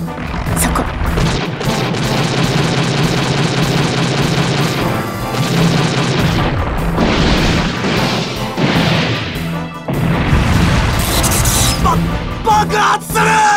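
Loud, dense explosions and crashing impacts from a Super Robot Wars V attack on the modified Evangelion Unit-00, bursting repeatedly over about fourteen seconds with brief gaps, layered with yelling and sound effects.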